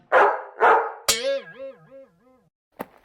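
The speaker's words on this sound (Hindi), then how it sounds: "पिंकी और मेजर साहब का कुत्ता।" A cartoon dog belonging to Major Sahib gives two loud, close barks, then a long wavering whine that rises and falls, ending with a short sharp yelp after a pause.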